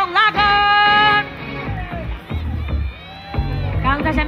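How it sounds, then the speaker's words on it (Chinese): A school crowd at the Jianguo High School Get High event welcomes the Jianzhong Locker dancers with loud bursts of cheering and whooping that rise and fall after an announcer speaks. "让我们掌声欢迎建中 Locker"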